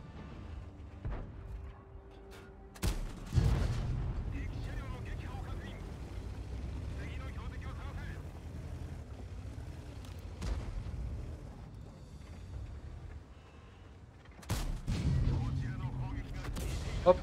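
A tank cannon in World of Tanks fires HE shells on the Himmelsdorf map, with sharp booming blasts near the start and again toward the end over a low rumbling battle bed, while voices talk.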